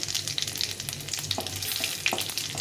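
Cumin, dried chilies and radhuni spice fry in hot oil for a Bengali tengra fish jhol chorchori, giving a steady close crackling sizzle with small pops and a few stirring scrapes, no voices.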